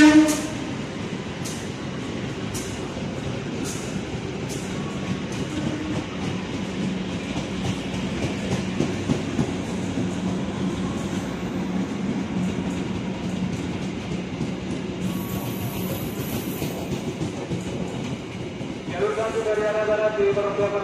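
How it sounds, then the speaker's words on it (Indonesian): The Erlangga passenger train runs straight through Cirebon station on track 7 from the west, a steady rumble with rhythmic clickety-clack of wheels on rail joints, and a horn sounds near the end. "Melintas langsung jalur 7 dari arah barat kereta api Erlangga"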